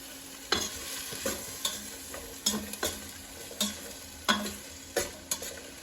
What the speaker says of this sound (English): I'm gonna let these simmer down for a little bit.